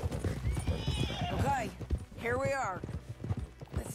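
Horse hooves clopping with a loud, close whinny in Red Dead Redemption 2, the neigh rising and falling after a short run of hoofbeats, with speech mixed in.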